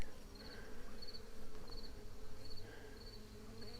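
Honeybees buzz steadily close by at a hive entrance while fanning, a dense continuous hum with faint higher whines drifting in and out, no voices.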